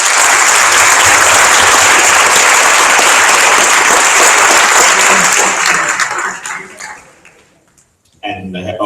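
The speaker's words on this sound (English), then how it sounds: "can I get a round of applause for our other applicants?" A loud round of applause from the audience at the IPSF World Congress in Hyderabad, India, sustained for several seconds, then dying away into near silence before a voice starts speaking at the very end.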